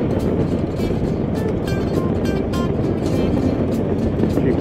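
A fully loaded touring motorcycle rides through a state reserve park, its engine and wind noise forming a steady, loud broadband rumble throughout, with faint tonal whines rising and falling in the background.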